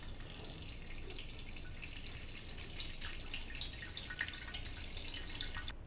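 Water running into the tank of a BUNN BXB Velocity Brew 10-cup home coffee brewer, a faint continuous trickle and patter heard alone in a quiet kitchen.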